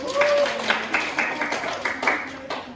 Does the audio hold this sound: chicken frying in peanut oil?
no